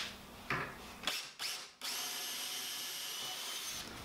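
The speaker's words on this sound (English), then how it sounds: "And now I'll drill a hole in over here." Close up, a power drill works a hole into the wood of a barn door nightstand: a few short revving bursts, then a long steady high whine that cuts off near the end.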